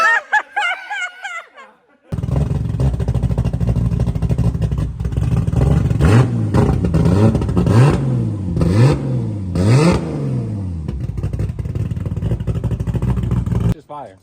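A Nissan RB26 engine on a dyno revs hard and steadily, loud and close, with rising and falling throttle blips over a constant roar, after a brief stretch of voices and laughter at the start.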